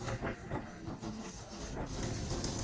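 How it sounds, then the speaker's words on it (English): Red Arrow Soviet-era passenger train in Russia rumbles steadily with a rhythmic clickety-clack and hiss, loud and close, with no talk. "It's none other than riding the train, possibly the most famous one from Soviet times."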